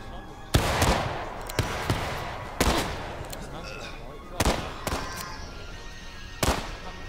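Musket volleys crash out in War of Rights during a mock skirmish battle, with repeated loud bursts and scattered shots at irregular intervals, some near and some farther off, and voices heard faintly underneath.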